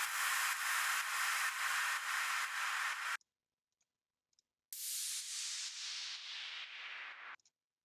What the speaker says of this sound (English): I have these 2 noisy sounds that fade down